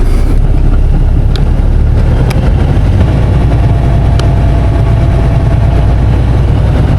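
An old Holmes tow truck's engine idles up steadily in a loud, continuous low rumble, close by with a few faint clicks over it and no talk.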